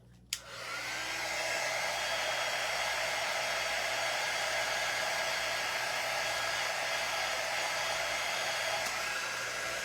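A hair dryer switches on with a click and then blows in a steady, close, high whoosh while drying a craft cutout, running unbroken with no talking.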